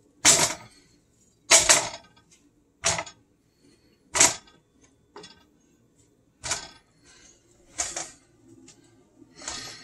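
A series of about nine sharp, crisp knocks of boiled potatoes being roughly chopped, evenly spaced with pauses between, close and clear against quiet.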